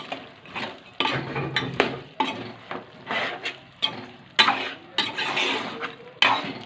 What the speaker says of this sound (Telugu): ఇక కొద్దిగా మనం కలుపుకోవాలి